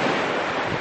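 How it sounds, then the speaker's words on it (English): Small waves wash onto a family beach at St. Ives, Cornwall, as a loud, steady rush of surf with wind buffeting the microphone and no voices. "Just the waves crashing. Very tiny waves"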